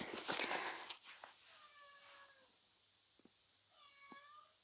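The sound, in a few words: cat meowing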